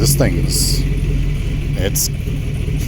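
A V8-swapped Chevrolet Colorado idling rough during an idle relearn after a throttle body cleaning, a low steady engine rumble close by with someone talking over it and brief clicking noises.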